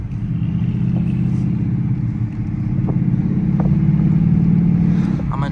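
Dodge Charger R/T engine in track mode while driving, a loud steady low rumble with a pulsing exhaust drone and light clatter throughout.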